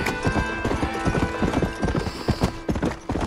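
Steady clip-clop of horse hooves trotting at a brisk rhythm in the video game Red Dead Redemption, loud and close, with a busy background.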